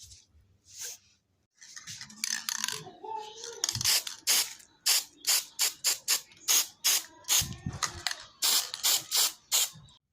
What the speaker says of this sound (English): So this is great for the dried flowers, which I'm going to spray now.